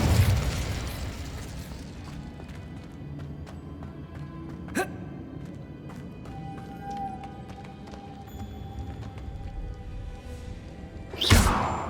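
Incendio fire spell cast in Hogwarts Legacy: a quick sharp burst near the middle, then a louder flaring whoosh at the end, among scattered clicks and soft game ambience.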